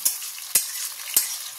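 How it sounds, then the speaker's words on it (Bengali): Tomato, green chili and ginger paste with spices sizzles gently in a pan under a soft steady hiss, broken by three sharp scraping strokes of a spatula about half a second apart. "এতে ভালো করে নাড়িয়ে চাড়িয়ে কষিয়ে নেব"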